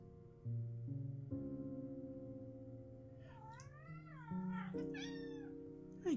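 A house cat lounging by a sunny window gives a couple of faint drawn-out meows with rising and falling pitch over a quiet steady hum, with no talking.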